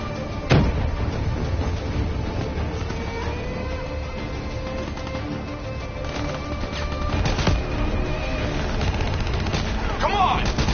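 Swarm launcher rockets and heavy gunfire in a console shooter game, sustained bursts of shots and blasts layered over a constant battle din, loud and close, with voices talking at times.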